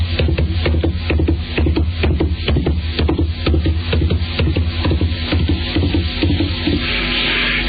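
A horse's hoofbeats in a three-beat gait, the footfalls landing in quick rhythmic groups over a steady low hum throughout.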